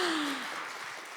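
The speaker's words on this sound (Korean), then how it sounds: "이금희 작가님께 여러분 큰 박수 부탁드리겠습니다" Book talk audience applauding an author at a 2022 Gimhae Book of the Year ceremony, a broad steady wash of clapping that holds for about a second and eases slightly toward the end.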